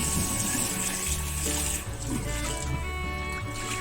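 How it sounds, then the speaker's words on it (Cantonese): Chicken feet rinsed under a running tap, a steady close splash and trickle of water over the feet with background kitchen noise throughout. "過水啦，雞腳。"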